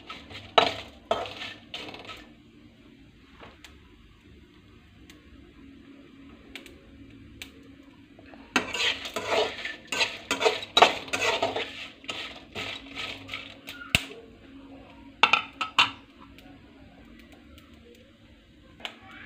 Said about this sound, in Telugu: కొంచెం మిరపకాయలు వేగేంత వరకు లైట్గా ఆయిల్ వేసి కొద్దిగా దూరగా వేయించుకోవాలి